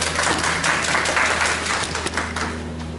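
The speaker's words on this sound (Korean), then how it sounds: "힘차게 박수로 모시겠습니다." Applause at an outdoor press conference at a city hall, a dense burst of many hands clapping at once, loud and sustained, with a low steady hum underneath.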